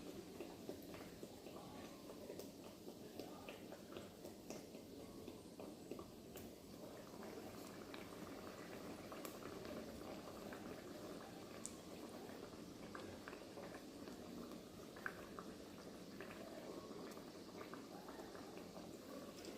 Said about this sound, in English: The oil is very, very hot. It has been heating up for a while now.